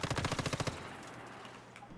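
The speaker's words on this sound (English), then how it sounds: "Who's shooting at me?" Rapid automatic gunfire from the video game Once Human, a burst of about ten quick, loud shots that cuts off and leaves a faint ringing tail.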